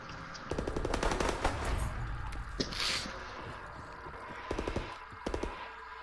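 An MP40 submachine gun fires in a WWII shooter on the Groesten Haus map, with several rapid bursts of automatic fire separated by short gaps, some near and loud, others softer, with no speech.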